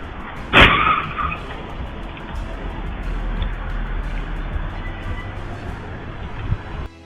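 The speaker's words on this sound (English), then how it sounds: "a speeding car came hurtling down and crashed straight into the parked vehicles, causing a catastrophic accident" A speeding car in a dashcam crash skids and slams into parked vehicles: one sharp, loud impact early on, followed by a sustained rushing roar of engine and road noise.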